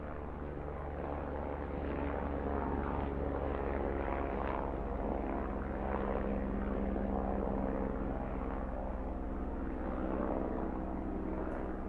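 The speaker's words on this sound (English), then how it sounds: "Do you like my helicopter?" An animated helicopter in a children's fire-rescue cartoon flies overhead, its rotor and engine drone a steady, loud whirring that continues throughout.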